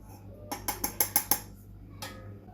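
A spoon stirs thandai masala into creamy homemade Holi thandai, giving about six quick, bright metallic clinks against the vessel in a tight rhythm, then a softer scrape after a short pause.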